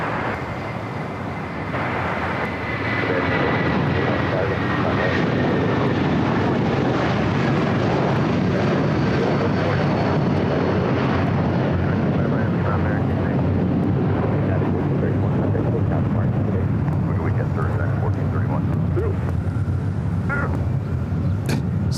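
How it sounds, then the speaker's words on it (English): A United 757-300 bound for Honolulu takes off from the south side of LAX, a steady broad jet roar holding loud and continuous throughout, with no talk over it. "Next takeoff here on the south side."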